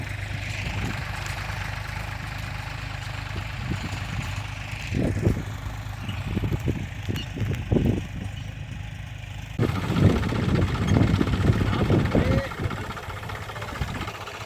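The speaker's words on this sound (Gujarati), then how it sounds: "આમ ચારે બાજુ ટ્રેક્ટર ચાલી રહ્યા છે વાવેતર ચાલે છે" Tractors working a field during groundnut sowing give a steady mid-pitched engine drone that swells louder toward the end, with a person talking over it.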